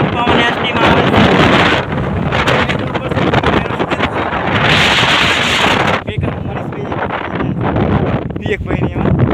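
Strong wind buffets the microphone on a village hilltop, a loud, continuous roar that swells into heavier gusts and briefly eases near the middle.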